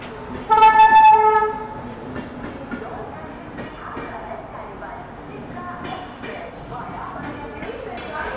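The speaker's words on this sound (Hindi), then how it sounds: "सामने कोई तो ट्रेन आ रही थी प्रयागराज जंक्शन से और ये शायद से आनंद विहार कामाख्या सुपरफास्ट थी" The Anand Vihar–Kamakhya superfast train, heading from Prayagraj Junction, passes on the adjacent track: a loud horn blast up close, then steady rumbling clatter of wagons rolling past, with someone talking over the noise.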